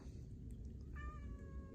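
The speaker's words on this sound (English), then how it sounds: "Seems like you're always harassing Danger Cat." A cat meows once, a short wailing call with clear harmonics, heard outdoors on a homestead over steady low rumbling background noise.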